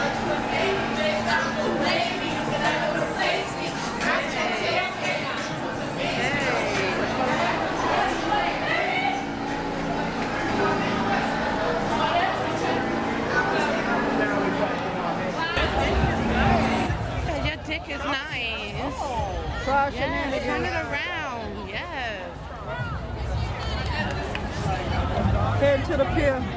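Dense crowd chatter from many voices at once at the New York City Pride street event, a busy outdoor hubbub that stays loud throughout, with nearby voices rising above the babble.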